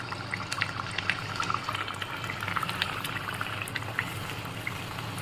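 Puris frying in hot oil, a steady bubbling sizzle with scattered crackles and pops throughout, close and moderately loud with no talk.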